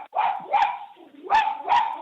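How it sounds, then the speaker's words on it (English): A pet dog barks in a home during a work-from-home call, four sharp, close barks in quick succession with brief yelping tails and nothing else around them. "the dog is barking"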